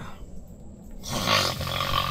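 A man snoring inside a tent on a life raft at sea, a rough, loud rasping breath swelling up after a quieter moment, close by with no talk.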